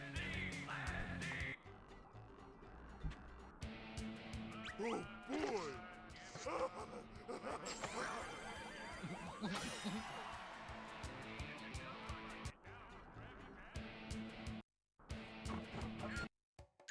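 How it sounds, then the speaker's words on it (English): Birds call outside an open window, with repeated cawing and chirping mixed with rustling and other outdoor noise, moderately near. Some talk can be heard underneath. "Ah, the sounds of birds."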